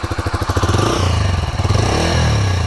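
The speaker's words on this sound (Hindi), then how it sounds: "ये देखिए कितने आसान तरीके से यहाँ पे इसका इंजन स्टार्ट हो गया। आवाज़ सुनिए" A Bajaj Freedom 125 CNG motorcycle engine starts up, with rapid pulsing cranks that settle into a steady, close, loud single-cylinder idle with a rhythmic mechanical chug.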